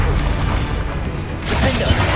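A Confringo fire-blast spell in Hogwarts Legacy erupts as a loud burst of crackling, booming noise that swells sharply partway through, over a dense background of game combat sounds.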